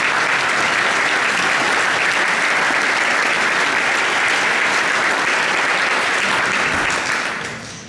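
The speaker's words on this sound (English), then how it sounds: "Let's have a round of applause for these great saxophones." A church audience at a youth jazz orchestra concert gives the saxophone section a loud, sustained burst of clapping that holds steady and then tapers off at the very end.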